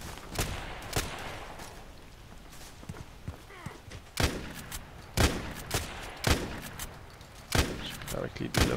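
Unsilenced PDR-C fire in Contract Wars: sharp, loud single shots and short bursts at irregular intervals, each a crisp crack with a thudding tail, while talk runs quietly underneath.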